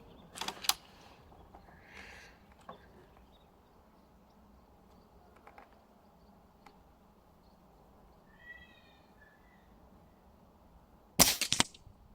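Weihrauch HW97K air rifle fired at a target, a sharp crack near the start and a loud double snap near the end, separated by long quiet stretches with faint small noises and a brief chirp in between.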